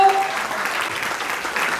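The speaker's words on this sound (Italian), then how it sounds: "Facciamo un applauso a Giuliano Mozzato." Steady applause from a sizable audience at a film awards ceremony, dense and continuous, with a faint voice trailing off at the very beginning.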